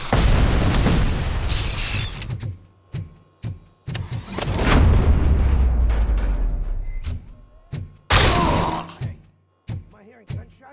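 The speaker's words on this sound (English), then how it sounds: "Am I hearing gunshots?" Gunfire and explosions in the RoboCop: Rogue City video game, with loud booming blasts, a string of sharp thuds and pops, and a final heavy bang, separated by short gaps.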